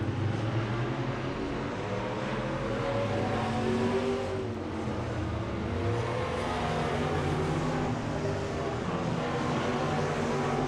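Race cars roar around Emo Speedway during a July 2020 race. The engine noise is a continuous, blended drone at moderate distance, with no single car passing clearly.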